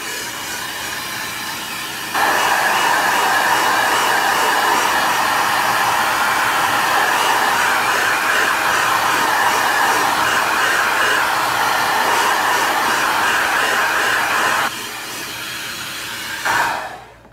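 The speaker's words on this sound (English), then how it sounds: "I'm just going to hit it with the hairdryer." A normal household hair dryer switches on and blows in a loud, steady, airy roar for about twelve seconds while drying wet paint, then drops to a lower hum and cuts off.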